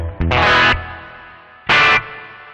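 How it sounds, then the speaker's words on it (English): Electric guitar through the spring reverb setting of a DigiTech RP360XP multi-effects processor: two loud strummed chords, each cut off sharply and trailing into a long, drawn-out reverb tail. "Spring reverb is probably the one that everyone wants the most"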